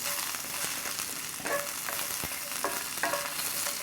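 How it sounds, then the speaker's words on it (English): Onions and red peppers frying over medium heat in a cast iron pan, a soft continuous sizzle with a few sharp scraping stirs and light utensil knocks, fairly quiet, with no voices. "then you add the onions and the red peppers. Medium heat,"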